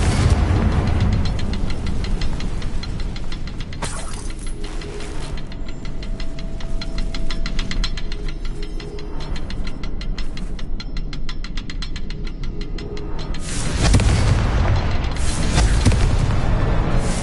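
Confringo fire-blast spells from Hogwarts Legacy detonate in loud booming bursts, with heavy sustained rumble and crackle broken by a few sharp louder blasts, all very close.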